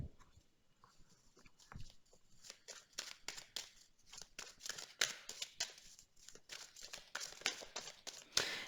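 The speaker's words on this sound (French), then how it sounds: "je vais tirer maintenant des cartes pour les décomptes" Playing cards drawn and handled from a deck during a tarot-style reading, giving soft, irregular papery rustles, slides and snaps close by, with light crinkling scattered throughout and no talking.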